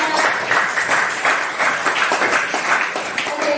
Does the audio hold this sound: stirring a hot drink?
no